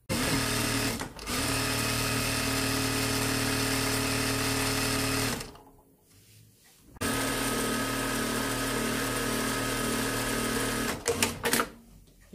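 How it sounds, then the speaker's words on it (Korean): An industrial sewing machine runs in long, steady mechanical whirring bursts, stopping briefly for about a second and a half before starting up again, then ending with a few short stitching stutters. "미싱 소리가 아주 부드럽고 좋습니다."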